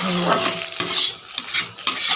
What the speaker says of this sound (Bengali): সুন্দরভাবে ভাজা হয়ে যাচ্ছে এরকম নাড়তে নাড়তে আস্তে আস্তে ভাজা হয়ে যাচ্ছে